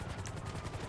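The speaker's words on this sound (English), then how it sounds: "Why is he shooting me?" Gunfire in Grand Theft Auto Online near the casino: rapid, dense automatic shots form a steady rattling burst, fairly loud throughout with no talk.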